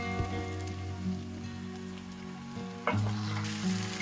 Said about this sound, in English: At this point, I'm going to add in the marinated mutton.